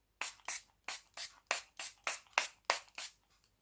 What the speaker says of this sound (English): Now taking my Rose Fix setting spray and just